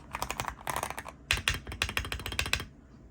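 Fast bursts of crisp keystrokes on a stock Wooting 80HE mechanical keyboard, two close flurries of clicky, clacking taps, loud and near with a short pause between them.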